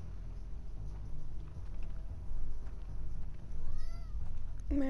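A cat in The Last of Us Part II gives a short meow near the end, preceded by muffled game ambience with soft movement noise.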